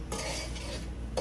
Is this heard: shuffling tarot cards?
no